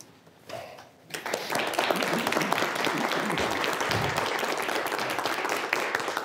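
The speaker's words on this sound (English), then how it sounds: "I thought you weren't going to clap for me." An audience at a UNLV gathering breaks into steady, dense applause after a brief quiet moment, sustained and fairly loud for several seconds.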